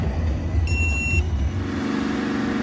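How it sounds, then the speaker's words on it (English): A BMW E92 335d diesel engine with a clogged DPF held at steady revs to clear it, a loud continuous engine drone heard close up with no talking. "rev it up for a little bit like this to clear it"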